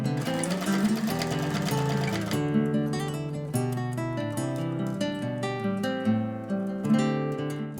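A sewing machine runs a fast, continuous mechanical whir while stitching the seam of a fleece hat, close by, with slight shifts in pace and pauses in rhythm, with no voices.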